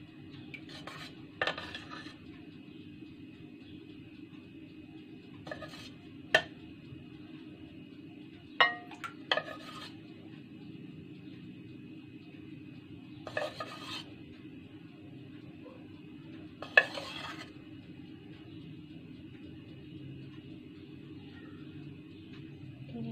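Melted chocolate spooned into molds, with a spoon clinking faintly against the dish and molds about six times over a steady low hum, spaced several seconds apart.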